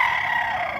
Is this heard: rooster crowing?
yes